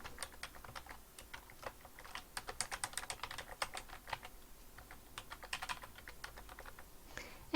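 Someone types an email address and password on a computer keyboard, with quick irregular clicks in short bursts, close and fairly quiet and without talking.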